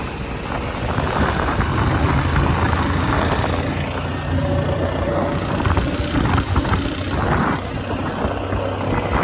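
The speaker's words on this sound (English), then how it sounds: "That's a good running motor, brother." A skiff's outboard motor runs steadily close by, a continuous rough engine drone with water and wind noise mixed in, holding an even level for the whole stretch.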